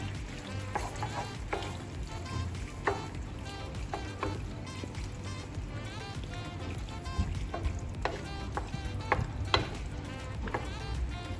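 Creamy garlic shrimp alfredo sauce stirred in a pan after a splash of milk, with steady low sizzling, soft scraping and scattered clinks of the utensil against the pan, continuous and fairly quiet, no talking.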